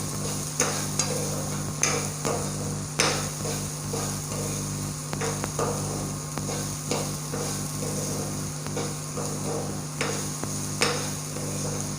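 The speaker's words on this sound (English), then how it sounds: "We should fry the onions a little so that it becomes translucent" Small chopped onions frying in a pan for a purple cabbage dish: a steady close sizzle broken by repeated scraping and knocking as they are stirred, with no voices.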